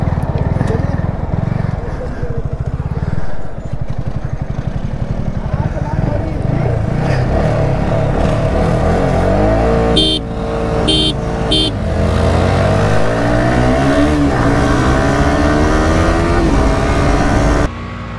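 A KTM Duke 200 and a Yamaha R15 V3 drag race, with loud engines revving and droning close by for the whole stretch and the pitch rising and falling through gear changes, under a steady roar with voices talking.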